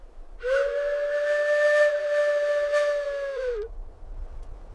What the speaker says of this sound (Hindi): उसके 7 वफादार कुत्ते टाकूफी फी वगैरह सीटी की आवाज सुनकर नमोदार हुए